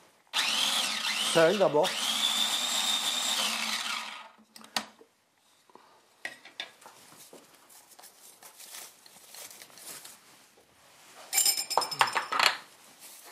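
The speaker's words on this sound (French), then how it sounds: "Là, on va le mixer." A blender whirs loudly for about four seconds, mixing a filling of citrus fruit and lukewarm salted butter. Clinks and short handling noises follow under brief speech, then a second short burst of blending near the end.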